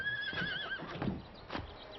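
A horse on a farm gives a short, high, wavering whinny at close range, followed by a few soft low thuds.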